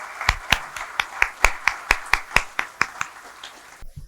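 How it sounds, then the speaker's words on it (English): Clapping welcoming a speaker at an event, about sixteen sharp, evenly spaced claps in a steady rhythm, close and loud, ending abruptly, with no voices. "give the biggest round of applause to the man, the myth, the legend"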